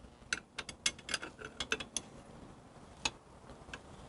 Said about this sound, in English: now we're going to get on here with this wrench